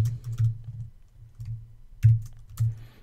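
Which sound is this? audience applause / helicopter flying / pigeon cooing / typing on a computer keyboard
typing on a computer keyboard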